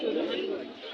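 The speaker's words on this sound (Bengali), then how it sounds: "এখনো কিন্তু হাটে অনেক কবুতর আছে।" Pigeons coo at a busy pigeon market in Hemayetpur, Bangladesh, a low murmuring call blended with nearby voices over one continuous second.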